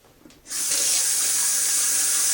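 A kitchen tap runs while hands are washed of fish slime after cleaning trout for cooking. The steady water gushes on suddenly and keeps rushing loud and close.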